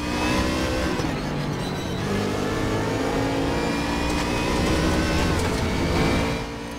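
Race car engines roar continuously in the Raceroom racing game, with a Mustang running just ahead; a loud, steady, revving drone that holds for the whole stretch with slight swells in pitch.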